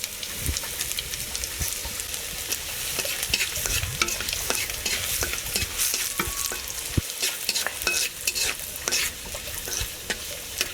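Sliced onions, chopped garlic and panch phoron fry in oil for a Bengali dal with bottle gourd, a continuous crackling sizzle with frequent scraping stirs, moderately quiet and steady.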